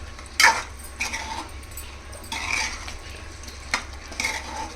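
Chicken kurma being stirred in a pot, with a few distinct scraping clinks of a spoon against the metal at spaced intervals over a low, steady background hum.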